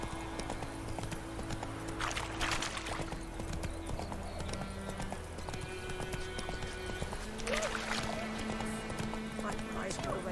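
Horse hooves clip-clop steadily amid game music and ambient effects in The Witcher 3, with occasional louder bursts of action sounds layered on top.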